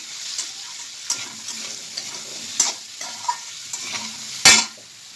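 Potatoes and ridge gourd with salt, turmeric and chili powder get stirred in a frying pan, a light sizzle underneath a series of spoon knocks and scrapes against the metal, ending in one loud clatter.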